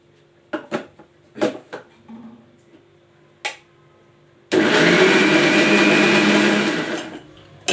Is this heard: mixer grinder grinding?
yes